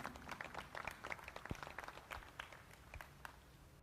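Crowd applause at a dairy cattle show after an Ayrshire cow is named champion: many hands clapping in a steady, dense patter at moderate volume, easing off slightly toward the end, with no talk over it.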